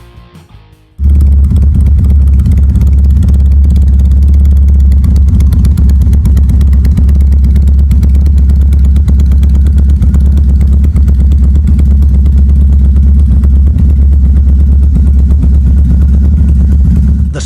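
A BMW R18 motorcycle with a custom exhaust fires up and idles loudly and close, a deep, throbbing rumble that holds steady throughout.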